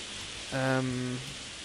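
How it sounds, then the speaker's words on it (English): Video game rain hisses in a constant wash throughout, with a brief low musical tone swelling up and fading in the middle. "Oh, it's rain."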